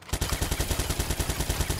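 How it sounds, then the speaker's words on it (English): Rapid gunfire from a fast-firing gun in the video game Watch Dogs 2, a dense, evenly spaced burst of loud shots running continuously from start to end. "Alright, test this gun."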